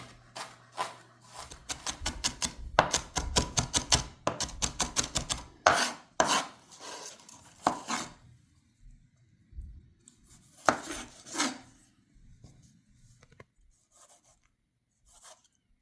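A knife dices red onions on a board for pico de gallo: quick, close, rhythmic chopping strokes in a dense run, a short pause, then a few more bursts of cutting before it trails off into quiet taps.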